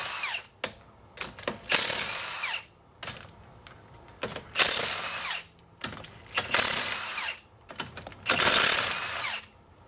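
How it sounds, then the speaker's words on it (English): Ratchet with a 21 mm socket loosening lug nuts on a raised Toyota Camry, heard as repeated loud bursts of rapid mechanical clicking separated by short pauses, close up with no talking. "We're gonna remove the lug nuts"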